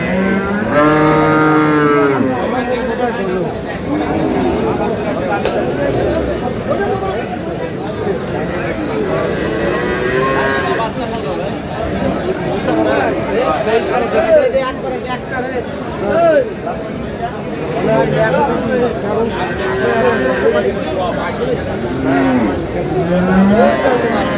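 Dairy cows and calves at the Aftabganj cattle market in Dinajpur moo several times, some calls close and drawn out, amid a busy crowd with people talking and bargaining throughout.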